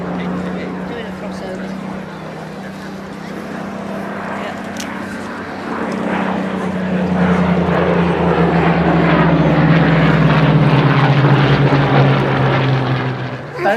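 Spitfire and Hurricane warbirds of the Battle of Britain Memorial Flight pass at a Dunsfold air show, a steady low piston-propeller drone that swells louder as they approach, with faint voices in the background.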